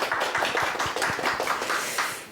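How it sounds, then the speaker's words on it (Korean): Audience applause at a Korean university talk event with a monk speaker, a steady wash of many hands clapping together, moderately loud and continuous with no voices over it. "박수 한번 보내주시기 바랍니다"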